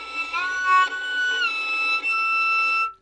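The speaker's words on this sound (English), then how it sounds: "There is a special string technique called flageolet, where you touch the string lightly instead of pressing it down." Violin flageolet harmonics, the strings touched lightly to sound airy, flute-like overtone notes, played alone as a few sustained high pure tones that glide and shift pitch over about three seconds.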